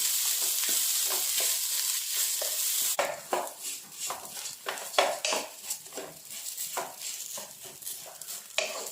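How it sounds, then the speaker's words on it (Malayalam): Rice roasting in ghee in a pan for ghee rice: a steady close sizzle, joined after a few seconds by repeated scraping and clinking stirring strokes of a spoon against the pan. "അപ്പം അരിയെല്ലാം നന്നായിട്ട് റോസ്റ്റായി വന്നിട്ടുണ്ട്"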